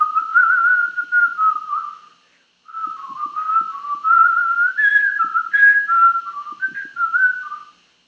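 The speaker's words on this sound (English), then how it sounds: "I whistle all the time" Someone whistles a wandering, tuneful melody close and clear, holding long notes in two phrases with a short pause between them and no speech.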